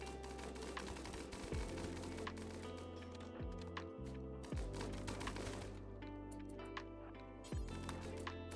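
Rapid mechanical bursts of minigun fire in the colony video game Rimworld, with several short volleys breaking off and restarting over a busy game music bed, and no talk.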